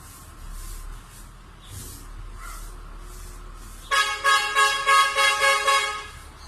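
A garbage truck horn blasts in a quick run of about six loud, evenly spaced toots after several quieter seconds of faint outdoor background.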